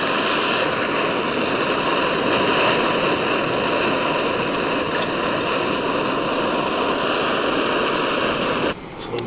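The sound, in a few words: water boiling on camp stove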